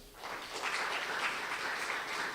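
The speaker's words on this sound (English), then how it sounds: "Let's give another round of applause." Applause from an audience after a public lecture swells up and holds as a steady wash of clapping at moderate level, without voices.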